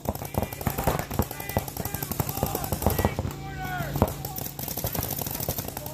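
Paintball markers fire in rapid, sharp volleys during a tier 1 tournament game at Langley, with dense cracking bursts at close to middle distance while players shout instructions over the shots.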